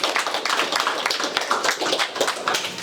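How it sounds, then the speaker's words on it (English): Moderate applause from a small audience at an annual general meeting, a few seconds of uneven clapping, fairly close and not very loud. "So give yourselves a round of applause."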